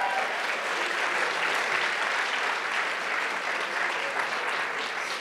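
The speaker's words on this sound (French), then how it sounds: "on peut les applaudir quand même" Dense, loud, continuous applause from a crowd at a group cosplay contest at a convention, a steady roar of many hands clapping without letup.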